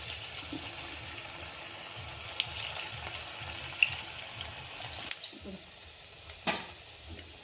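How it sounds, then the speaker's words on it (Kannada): Bread pakoda shallow-frying in hot oil gives a soft, steady sizzle with a few faint pops and clicks, fairly quiet and close throughout. "ನೋಡ್ರಿ ಈ ರೀತಿ ಫ್ರೈ ಮಾಡ್ಕೋರಿ, ಮಸ್ತ್ ಆಗ್ತಾವ."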